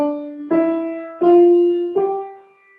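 A sustained instrumental note struck four times in a row, each attack ringing and fading slightly before the next, with no talking.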